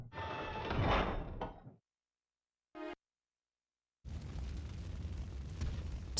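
A door opening in the Resident Evil survival horror game on PlayStation: a loud grinding, rumbling sweep, a short sharp clank after silence, then another sustained rumbling texture.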